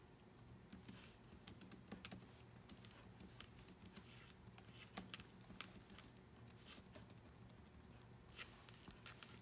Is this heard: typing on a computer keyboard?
yes